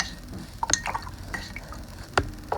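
A paintbrush swished and rinsed in a container of water, with scattered small drips, splashes and clicks, close and fairly quiet.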